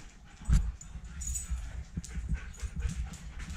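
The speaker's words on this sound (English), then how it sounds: "he's a rescue dog" A large male rescue dog whimpers and pants up close in short, repeated soft whines and breaths, with no talking over it.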